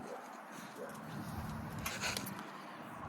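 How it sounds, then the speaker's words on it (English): Agitated pet dogs whimper and bark at home, faint and somewhat distant under a steady noisy background, with a brief cluster of sharper yelps near the middle. "My dogs are freaking out."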